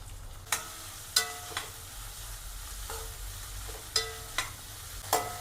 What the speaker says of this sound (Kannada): ಸ್ವಲ್ಪ ಈರುಳ್ಳಿ ಫ್ರೈ ಆಗಿದೆ